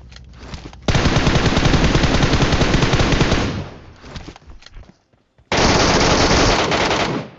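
Automatic gunfire in the video game PUBG comes in long, loud, rapid bursts, close and dense, with one sustained burst, a brief pause and near silence, then another burst.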